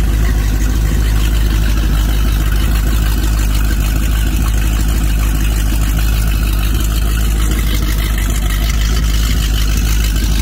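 A 5.7-liter Mercruiser V8 boat engine, run on the ground before installation in a Maxum 2300SC, idles steadily and loudly at close range with a deep, even rumble throughout.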